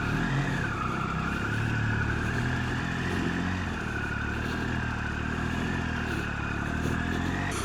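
Adventure motorcycle riding along a street on an evening ride, a steady engine drone with a sustained tone and road and wind noise running continuously at constant loudness throughout.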